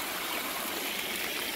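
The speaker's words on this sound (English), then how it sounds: "suddenly we have quite the little pond here and waterfalls" A small backyard stream spills over rocks into little waterfalls and a pond, giving a steady, close, hissing trickle and gurgle with no voices.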